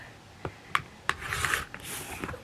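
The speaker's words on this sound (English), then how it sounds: "So now I'm going to trim off the excess just along the solid black lines, and a rotating cutting mat is handy here" A rotary cutter trims quilt fabric along lines on a rotating cutting mat, giving a few short, close scraping strokes and light clicks in quick succession.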